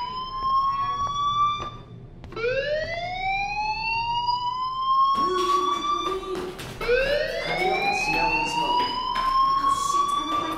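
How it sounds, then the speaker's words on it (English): A school fire alarm in the Life is Strange video game whoops through a series of rising electronic sweeps, loud and sustained, with a brief gap before the alarm resumes and repeats with harsh overtones. "Hey, do you hear that fire alarm?"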